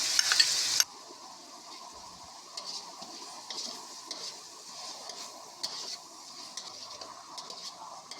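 Onion paste fries in a pan with ginger, garlic and green chili paste for a snakehead fish dish, giving a soft, continuous sizzle with intermittent brighter crackles and stirring scrapes, fairly quiet.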